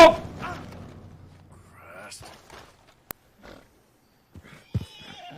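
Horses in the video game Alpha Protocol neigh and whinny loudly in shrill bursts, with snorting, scattered game noises and a sharp click. The calls are close and prominent at the start, then come back in shorter bursts near the end.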